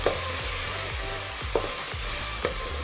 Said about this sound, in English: I'm just going to continue frying this.